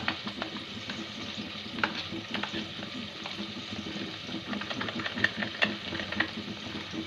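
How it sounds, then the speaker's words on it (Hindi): Spices being stirred into potatoes and spinach in a frying pan, with a steady sizzle and scattered scraping clicks of the spoon against the pan, close and continuous, with no talking. "बहुत अच्छी तरह से सारे मसाले को मिक्स कर लेंगे हम।"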